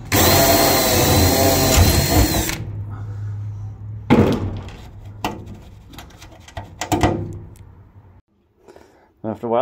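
A power drill runs loudly for a couple of seconds while taking rivets out of a vintage Spartan Manor trailer, then stops, followed by metallic clatter, knocks and handling noises in a hollow interior.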